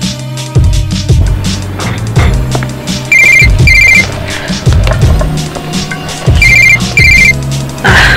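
A telephone bell rings in two pairs of bright electronic trills over clattering, thumping wooden knocks and background music.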